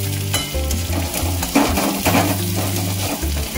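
Potatoes or food sizzling and frying in a pan on a gas stove for a Bengali aloo chokha, a close, steady hiss with stirring scrapes and light clinks of utensil against the pan.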